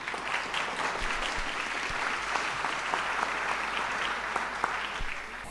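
Steady, full applause from an audience at a book presentation, a dense wash of clapping lasting several seconds at even loudness, with a few sharper individual claps standing out.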